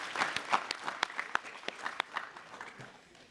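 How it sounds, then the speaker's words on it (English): A small audience at a middle school Heroes Day event applauds its guests of honor with sparse, fairly faint individual claps that thin out and fade. "Can we have another round of applause for all of our guests of honor today and everybody who helped put this together?"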